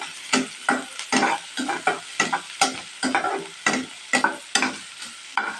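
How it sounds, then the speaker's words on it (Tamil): Crushed garlic and curry leaves are stirred through onions in a frying pan, with rhythmic spoon scrapes repeating every half second or so over a soft sizzle. The sound is close and loud, with no voices. "நல்லா மிக்ஸ் பண்ணிக்கலாங்க."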